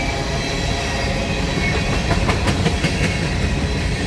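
Empty CSX grain unit train cars roll past close by, a steady loud rumble with rhythmic clickety-clack of wheels over rail joints and some rocking car noise, no voices.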